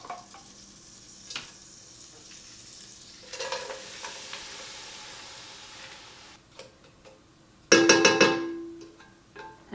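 Carrots and onions cooking in a pan over medium heat: a soft steady sizzle with occasional utensil taps, then a louder burst of frying and stirring that slowly fades.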